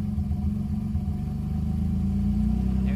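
A car engine idling in neutral after being jump-started from a dead battery, a steady, close, low mechanical rumble with no talk.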